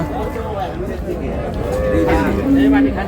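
Dairy cows and calves at a rural cattle market in Dinajpur, with a cow lowing amid loud, continuous crowd chatter and bargaining voices throughout.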